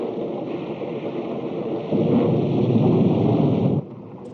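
Thunderstorm with heavy rain and rolling thunder, a steady dense roar that swells louder midway and drops back near the end, with no talk.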